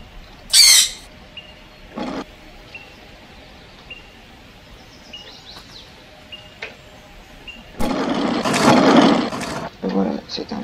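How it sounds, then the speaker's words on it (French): Growl from a wolf in the survival game Cenozoic Survival, a rough low burst near the end following scattered short calls and thuds over a quiet ambient background. "Voilà, c'est un loup."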